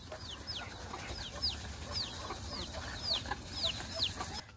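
Chickens in a rural homestead, fed paddy along with ducks, make faint, repeated high-pitched calls at an irregular pace over a low background rumble.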